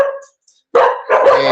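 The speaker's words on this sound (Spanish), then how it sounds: "justo está llegando mi hijo y los perros se alborotan" Several dogs at home bark excitedly as someone arrives, with two loud, close bursts of barking after a brief pause and a voice briefly audible at the start.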